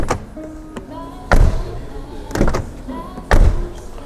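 Front door of a 2024 Mercedes E-Class estate shutting several times, each a solid low thud with a brief metallic ring after, close by with quiet gaps between closes.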